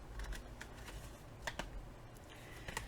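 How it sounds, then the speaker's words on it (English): Paper being folded and creased by hand for a one-sheet seven-pocket mini album, with a few crisp rustles and taps spread across the moment, faint and close, with no talk. "Then you're going to fold that in half again."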